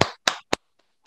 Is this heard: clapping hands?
yes